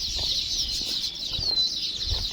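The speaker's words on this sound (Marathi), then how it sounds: "इतका सुंदर किलबिलाट पक्ष्यांचा कानावर पडतोय" A dense morning chorus of high, twittering baya weaver bird chirps fills the air continuously, busy and fairly close, with faint low thumps beneath.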